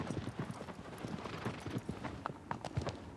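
Hooves clip-clop in quick, uneven beats as a horse is ridden across sand and desert ground in the video game Shadow of the Colossus, close and moderately loud with no talking.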